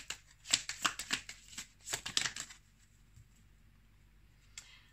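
A deck of oracle cards is shuffled in a series of quick papery riffles and flutters for about two and a half seconds, followed by near silence with a faint rustle at the end.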